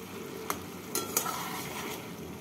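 Fried fish and slit green chillies stirred in a hot pan, a steady oily sizzle with a few sharp clicks of the spatula against the metal, close and continuous with no talk.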